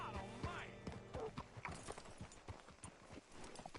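Horse hooves in Red Dead Redemption 2 clip-clop in a quick, steady rhythm of many close hoof strikes, with a voice speaking briefly near the start.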